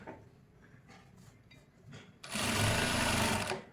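A sewing machine top-stitches fabric piping on the main fabric side: quiet handling and rustling at first, then the motor whirs up into a loud, steady, rapid stitching run for over a second before stopping.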